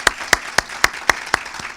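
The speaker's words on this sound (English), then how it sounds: "So if you give a round of applause to all those folks" A few slow, separate hand claps ring out at an annual meeting, about seven sharp claps at a steady rhythm, close and clear with no talk.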